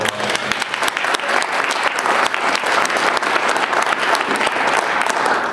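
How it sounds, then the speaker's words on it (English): A room of attendees at a forest and fire learning series evening talk bursts into sustained applause, a full, even wash of clapping hands lasting several seconds without pause. "and Laurel deserves a huge round of applause"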